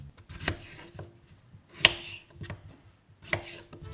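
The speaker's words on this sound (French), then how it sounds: "on va les couper en morceaux plutôt de taille moyenne" Knife cutting washed potatoes into medium chunks on a board for patatas bravas, giving a few sharp, separate close chops with quiet gaps between them.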